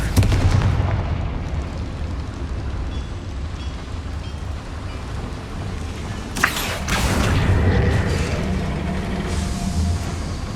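A Confringo blasting spell goes off in Hogwarts Legacy, a sharp blast landing around the middle and followed by a rumbling burst, heard over a steady dense game backdrop with no talking.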